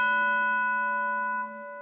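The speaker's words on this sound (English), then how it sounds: "And there's the bell." A single bell ding rings out clear and sustained, its bright tone decaying slowly over nearly two seconds with no talk over it.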